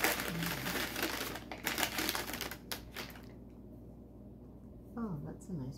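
Paper wrapping around antique glass bottles crinkles and rustles in bursts up close as the bottles are unwrapped, with voices talking over and between the rustling.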